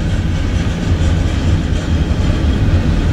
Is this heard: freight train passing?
yes